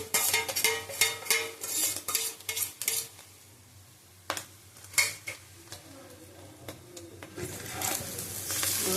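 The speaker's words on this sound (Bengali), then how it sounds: "একটু নাড়িয়ে নেবো।" Cooked chicken and gravy stirred into egg chow mein in a pan, with rhythmic metal scraping and clinking of the utensil against the pan, then softer stirring and a faint sizzle.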